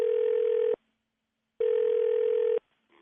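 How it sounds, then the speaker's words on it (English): Two long, steady ringback tones sound over a phone line as a call is placed, separated by a pause of silence and followed by a faint click. "Let's call her daughter right quick, see if we can get her on the phone."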